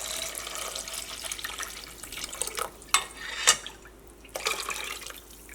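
Three and a half glasses of water poured from a mixer jar into a cooking pot, a continuous splashing rush with a few sharper sloshes and clinks of the jar against the pot.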